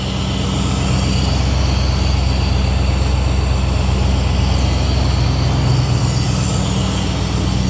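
An LS engine in a G-body Monte Carlo idles as it warms up, a loud, even, low rumble with a steady throb that runs unchanged throughout, close by with no talking.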